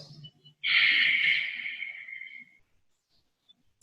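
A single long, forceful breath during a held yoga stretch at a wall, a breathy hiss that swells quickly and trails off over about two seconds, close and clear in a quiet room.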